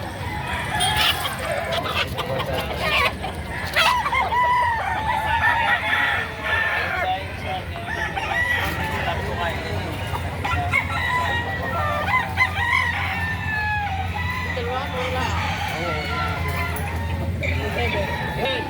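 Roosters crow repeatedly amid steady clucking from a flock at a Saturday chicken market in Lipa City, Batangas, with a murmur of people talking in the background.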